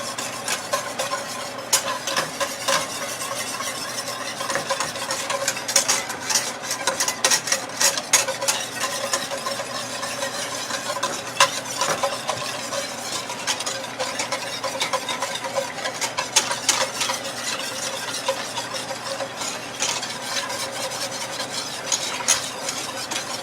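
Garlic shrimp Alfredo sauce being stirred in a pan, with a steady scraping and swishing of the spoon against the metal over a soft sizzle, close and continuous with no talk.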